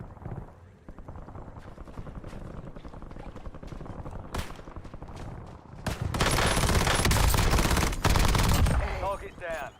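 Gunfire in a video game crackles in rapid bursts, starting with scattered shots and swelling into heavy sustained automatic fire with explosive roars, loud and close.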